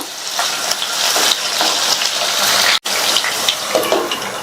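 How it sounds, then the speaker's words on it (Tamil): Potatoes frying in hot oil, a steady loud sizzle with bubbling hiss throughout, briefly cut off for an instant midway before resuming. "இந்த உருளைக்கிழங்கு எண்ணெயிலேயே ஃப்ரை ஆகி ஒரு 3/4 பங்கு அளவுக்கு வெந்து வரட்டும்."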